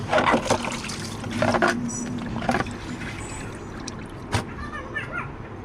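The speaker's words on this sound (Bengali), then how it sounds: "আমি আমার মেয়ের জামাগুলো কিন্তু কেচে নিলাম" A child's clothes are washed by hand in water: splashing, sloshing and dripping in bursts, close by, with a few clinks and a low background hum.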